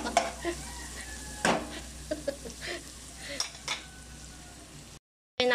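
Ginger and garlic stir-fried in a hot pan for Filipino beef papaitan, with a steady sizzle broken by scraping, clinking stirs of a utensil against the pan, close and fairly loud, ending in a brief drop to silence.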